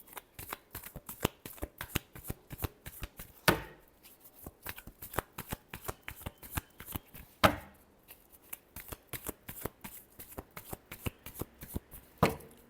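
Tarot cards are shuffled close by in quick, crisp rhythmic riffles, with two brief pauses between bursts and no talk.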